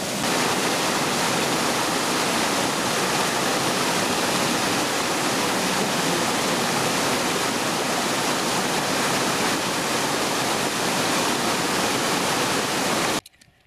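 A waterfall in New Zealand roars as a steady, loud, dense rush of falling water that fills the whole span without pause, then cuts off abruptly at the end.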